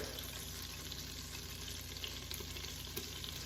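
Garlic frying in the heated pot of a pressure cooker, a steady close sizzle and crackle holding at an even level throughout, with no talking over it.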